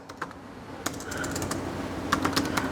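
Keys clatter on a computer keyboard while a tab name is typed in Microsoft Excel, with a couple of scattered taps and then a quick burst of keystrokes over a low background hum.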